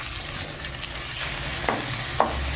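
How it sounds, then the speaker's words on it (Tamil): Crushed garlic cloves drop into hot oil and sizzle steadily up close, with a couple of light stirring scrapes, while masala puffed rice is being prepared. "பூண்டு 1-2 நசுக்கி வச்சுருக்கேன். அதுவும் இந்த எண்ணெயிலே போட்டுடலாம்."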